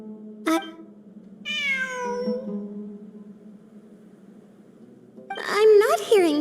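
A cat in the video game Genshin Impact meows, a drawn-out falling mew after a short click, then a second burst of mewing near the end over a quiet background hum.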